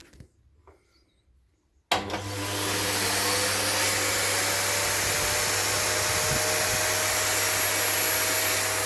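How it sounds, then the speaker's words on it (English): A vacuum cleaner is switched on after a brief quiet pause and runs with a steady, loud, unbroken whine and hum, used to pull vacuum on a brake booster under test. "I will look if the vacuum from the vacuum cleaner will already allow for me to push it from this side"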